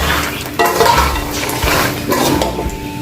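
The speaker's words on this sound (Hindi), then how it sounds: "अब हम इसमें डालते हैं बादाम। इसको भी हम थोड़ी देर के लिए फ्राई कर लेते हैं।" Almonds frying briefly in a pan for dry-fruit panjiri, with clear clinks and scrapes of a utensil against the pan over a steady sizzle, close and fairly loud, and no talk.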